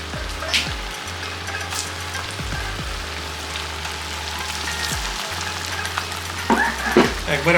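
Potato and egg kofta frying in hot mustard oil, a steady close sizzle and bubbling with a few spatula scrapes and a brief metallic clink near the end, no talking.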